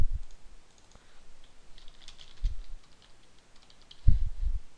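Light typing on a computer keyboard, faint scattered key clicks spread over several seconds with a couple of duller thumps, quiet room and no talk.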